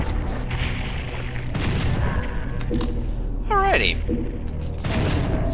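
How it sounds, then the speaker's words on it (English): Rocket launcher blasts in DOOM 64, heavy booming explosions and rumbling impacts layered with game effects and a brief rising creature cry, with a voice speaking briefly over the din. "We have a plethora of ammo, so we should have no issue using this rocket launcher."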